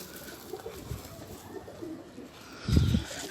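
Pigeons cooing nearby, soft low coos ending in one louder close burst over quiet background.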